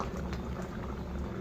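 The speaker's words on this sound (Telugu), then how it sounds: "ఒక 10 మినిట్స్ తర్వాత చక్కగా బాయిల్ అయిపోయిందండి" Vegetable kurma curry boils in a pot, a steady low bubbling and popping with soft, even texture throughout, fairly quiet and with no voices.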